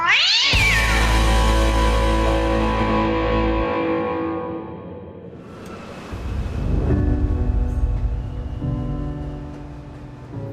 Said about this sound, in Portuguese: Ai, meu gatinho aqui.